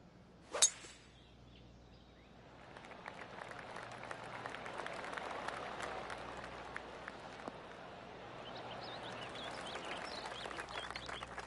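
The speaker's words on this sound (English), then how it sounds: "Oh, golf clap. That's a beauty." Polite golf clapping from the gallery in PGA TOUR 2K25, a soft scattered patter of hands that builds after a sharp opening crack and keeps going steadily without voices.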